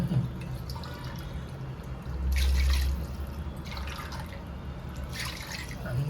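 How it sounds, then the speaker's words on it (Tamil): Water is poured into a cooking pot for chicken biryani in a steady trickle with occasional splashy surges, fairly close and moderately loud, with no one speaking. "இந்த 8 டம்ளர் தண்ணி ஊற்றியாச்சா?"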